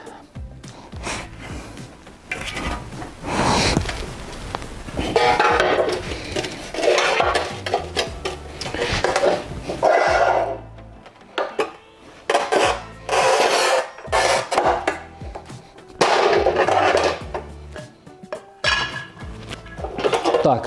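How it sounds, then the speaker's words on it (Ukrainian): A Montolit Masterpiuma P5 manual tile cutter scoring and snapping a 12 mm porcelain stoneware tile 90 cm long, with repeated gritty scraping strokes and clattering handling noises close by over about twenty seconds, no talking. "давайте, мабуть, ще раз поріжемо керамограніт 12 мм"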